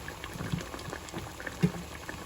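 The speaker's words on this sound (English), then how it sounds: "I'm going to allow this to simmer" Curried salmon in coconut sauce simmering in a pot, with soft continuous bubbling and occasional louder pops, close and fairly quiet, with no voices.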